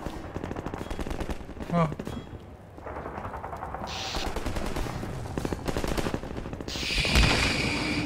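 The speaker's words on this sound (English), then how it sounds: "Somebody's shooting at me." Gunfire in Half-Life 2 aimed at the player, with loud rapid bursts of automatic shots continuing throughout, and a brief exclamation from a voice.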